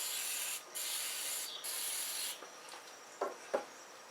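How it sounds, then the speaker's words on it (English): Steady, broad hiss of an aerosol can of electrical contact cleaner spraying continuously onto Jeep TJ PCM connector contacts, cutting off briefly twice, then short bursts near the end. "take some electrical contact cleaner"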